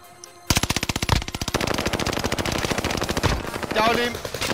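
Rapid automatic gunfire in the Call of Duty Warzone video game, loud and close, firing in a fast sustained burst that starts abruptly and rattles on with further shots and some voice beneath.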